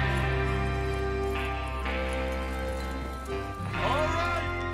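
Horses clip-clopping in Red Dead Redemption 2, a steady run of hoof beats alongside the game's music and ambient noise, with voices talking over them.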